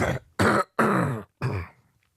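Four harsh coughs in close succession, loud and near, each a short rough burst with brief silences between.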